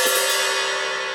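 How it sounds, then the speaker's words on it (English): A loose 14-inch hi-hat gives one bright, open metallic wash that rings alone and decays slowly. It has a sustained shimmering ping and a long sizzling tail. "14-inch hi-hat, pretty loose."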